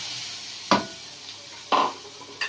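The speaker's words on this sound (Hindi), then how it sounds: "सबसे पहले हम मटर डालेंगे" Peas tipped into a pan of cooking chicken macaroni pasta, giving three short, close scraping clatters spaced about a second apart over a low background hiss.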